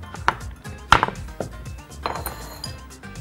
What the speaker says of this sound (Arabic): هجيب اللحمه بقى عايزه اقطعها